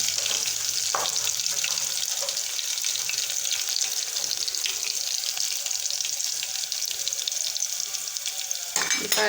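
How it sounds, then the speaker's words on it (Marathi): Crushed garlic is dropped into hot oil and fries with a steady, hissing sizzle that runs throughout, broken by a few soft clinks and stirring sounds. "हे पहा मस्तपैकी तेल गरम झालेलं आहे आपण जे लसण ठेचून घेतलेलं आहे ते लसण टाकून घेत पहिल्यांदा"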